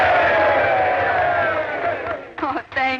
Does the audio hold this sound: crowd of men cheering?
yes